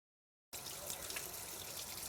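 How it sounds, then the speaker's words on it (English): Water runs steadily from a home faucet, a constant close splashing stream that starts abruptly after a half-second of silence and continues evenly to the end with no talking. "Lately, William Gordon is more aware every time he touches a faucet in his home."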